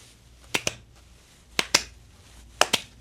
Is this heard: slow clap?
yes